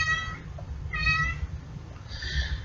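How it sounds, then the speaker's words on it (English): A cat meows three times in a film, each call clear and drawn out with short gaps between, heard alone over a low background hum. "And here comes a cat."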